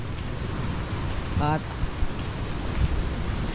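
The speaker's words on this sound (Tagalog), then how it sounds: "Ang hirap talaga pag umuulan, hindi ka makakilos ng ayos." Steady rain falls at a seaside spot where boats are pulled up among scattered leaves, a continuous broad hiss with a brief voice cutting in partway through.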